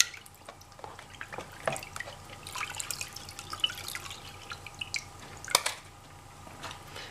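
Water drains off a gold pan bucket in soft drips and small splashes, fairly quiet and irregular, with a few sharper drops standing out and no talking.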